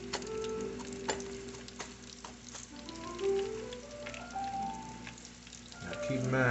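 Bread-coated calamari pieces frying in hot oil give a steady crackling sizzle with sharp pops, while tonal background noise runs underneath and grows louder toward the end.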